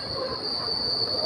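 Passenger train of about nine to ten coaches hauled by a WAP 7 electric locomotive, a steady close rumble with rail and wheel noise and a high squealing tone running throughout, no voices.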